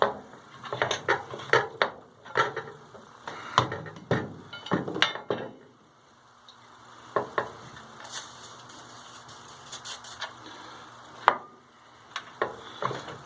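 Light metallic taps and clinks come from working the flywheel off a vintage McCulloch 440 chainsaw, tapped and pried in irregular clusters, with a quiet pause midway before sparser taps resume, close and crisp.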